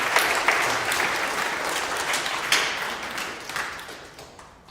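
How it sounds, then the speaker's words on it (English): An audience claps to welcome a speaker up to talk about the NASA Apollo missions to the Moon. The applause is dense and full from the start, then gradually fades toward the end. "So if we could all just give him a round of applause and welcome him up and thank him for coming."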